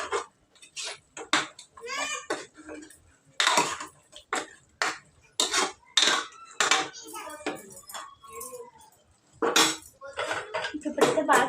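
Metal spoon clanks and scrapes against a cooking pot as chili powder and spices are mixed for a Telugu home-style gongura mutton curry, a quick run of irregular knocks and clinks, with faint voices in the background.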